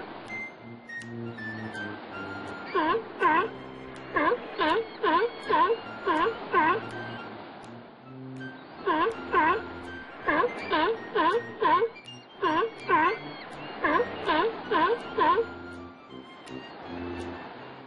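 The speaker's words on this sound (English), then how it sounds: "Okay, this was the sound of the seal." A seal calls in two long series of wavering, moaning cries. Each series is made of rapid, evenly spaced bursts, separated by short pauses and heard fairly clearly against a quiet background.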